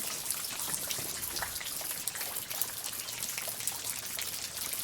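Steady outdoor rain, a dense continuous patter of drops striking surfaces with light trickling, even and unbroken throughout with no voices.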